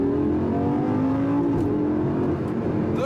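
Lamborghini Gallardo LP560-4 accelerating hard, its engine note climbing steadily through quick gear shifts with a brief dip at each change, loud and close with no voices.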